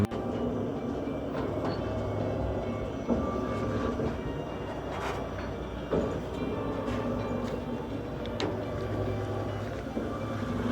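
An electric commuter train rumbles past in Stary Sambir, Lviv Oblast, with steady rolling rail noise and faint clacks, fairly close and continuous throughout, with no voices.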